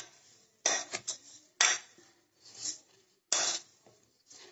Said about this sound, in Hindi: इसको अच्छी तरह से मिक्स करेंगे जिससे हर एक पीस पर शुगर लग जाए।